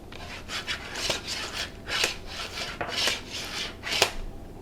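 Food for a dehydrated trail mix snack is pushed back and forth across a guarded mandoline slicer, making rhythmic rasping strokes about once a second, close and fairly crisp, with no talking.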